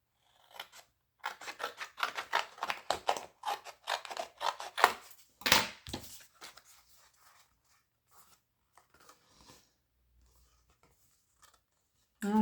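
Scissors cutting a cardboard coffee box, a quick run of crisp snipping and crunching strokes up close, then a few scattered rustles and quiet handling.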